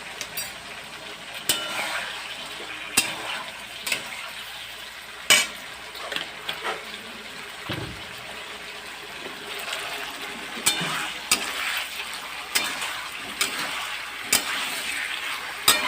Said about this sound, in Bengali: সামান্য একটু জল দিয়ে আমি এবারে কষাবো।